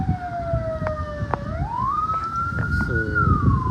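Fire engine siren wailing on a truck arriving at a fire in Vellakovil, Tiruppur, its rising and falling tone loud and steady over road noise, with a few horn-like blasts near the end.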